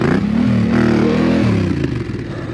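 A Yamaha Ténéré adventure motorcycle on Motoz RallZ tires revs hard under throttle off-road. The engine makes a loud, close, continuous drone whose pitch rises and falls over a couple of seconds.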